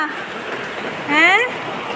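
Steady rain falls outdoors in the evening, making a continuous, even hiss. A brief, rising tonal call sounds once in the middle.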